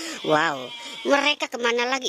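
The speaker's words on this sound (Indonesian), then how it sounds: "Itu suara kambing berisik banget tuh." Goats bleat noisily in a wavering, harmonic cry, two drawn-out calls close by, with a person speaking over and between them.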